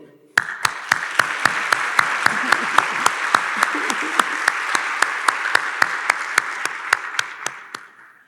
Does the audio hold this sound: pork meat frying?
no